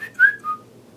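A person whistles an imitation of an Android text notification, two quick rising-falling chirps in succession, close and clear with no talk over it.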